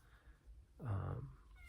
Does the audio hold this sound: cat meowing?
yes